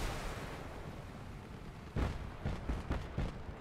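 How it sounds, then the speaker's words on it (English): Homing missiles launch and burst in the vehicle combat game Crossout, a rumbling run of booms: one sharp blast, then several quicker hits close together, all loud over steady battle noise. "He has fucking missiles too."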